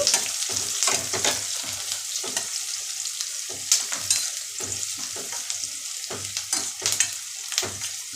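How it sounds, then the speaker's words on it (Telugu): Peanuts frying and being stirred in a pan for an uggani snack, with close, soft sizzling and repeated scraping stirs in an irregular rhythm, and no talking. "పెద్దకాయలు మరీ ఎర్రగా వేగాల్సిన అవసరం లేదండి కొద్దిగా ఏగితే సరిపోతుంది"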